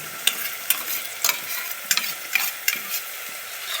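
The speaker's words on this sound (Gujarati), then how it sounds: "ભાઈ ડુંગળીનો વઘાર માર્યો છે" Onion tempering sizzling in hot oil in a pan, a steady close frying crackle with sharp stir and scrape clicks recurring every half second or so.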